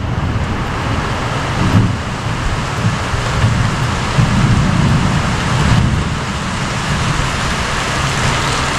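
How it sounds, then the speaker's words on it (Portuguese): Rain falling on a farm in the early morning, a loud steady wash of noise with a low rumble and slight swells in intensity, continuous and close, no talking. "Gente, um pouco chove mesmo, é normal."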